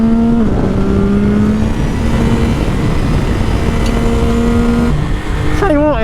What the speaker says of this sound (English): That shifter noise is something else.